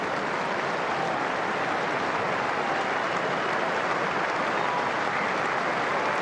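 Stadium crowd at an AFL match between Adelaide and St Kilda in 2015 applauds an injured player, a dense, continuous roar of clapping that stays loud and even throughout with no talk over it.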